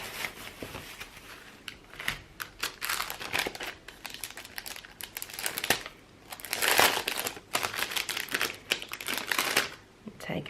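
Prima paper clay is unwrapped from its plastic packaging with bursts of close crinkling, crackling and rustling, louder stretches alternating with quieter handling over about ten seconds.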